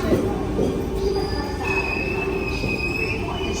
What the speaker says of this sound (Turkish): tramvay benim camımın önünden geçiyor arkadaşlar.